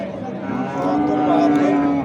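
A Jersey cow moos at a busy cattle market, a sustained low lowing call rising in the second half, heard up close over a steady crowd murmur.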